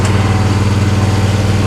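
A commercial zero-turn lawn mower engine runs steadily at half throttle, a loud, continuous low drone with an even rhythmic pulse close by, and no talking over it.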